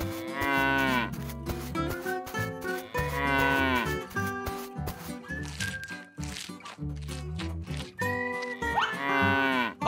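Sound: cattle mooing, baby cow separated from herd

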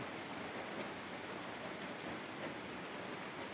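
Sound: rain falling

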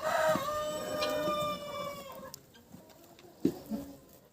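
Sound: Cochin chickens clucking, rooster

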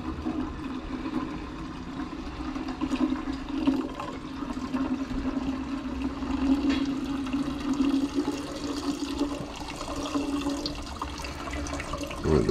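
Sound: liquid carefully poured off into a beaker

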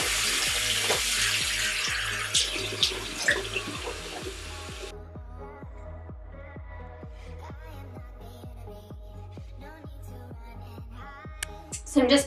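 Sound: tap water running while rinsing face

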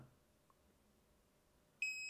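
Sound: Nedis smart water leak alarm beeping

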